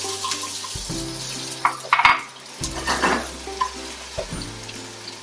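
Onion dropped into a hot pan of peanut oil sizzles, with clatter of a utensil against the pan and short bursts of frying noise, close by.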